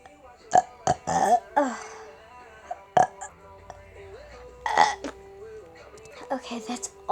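Short burps and clicky throat sounds from one person come in quick bursts, close and fairly loud, with brief vocal noises among them.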